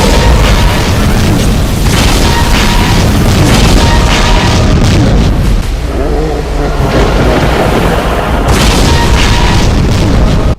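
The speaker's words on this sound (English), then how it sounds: "Demon Tech BFG shots." Heavy booming blasts from a Demon Tech BFG in a Doom mod fight against Cyberdemons, loud and continuous, with roaring explosions layered over each other.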